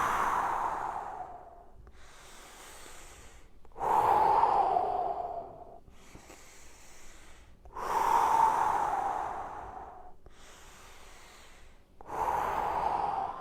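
Slow, deep breathing during a side-lying rotation exercise, alternating audible inhales and exhales in a regular rhythm of about two seconds each, close and clear, with no speech.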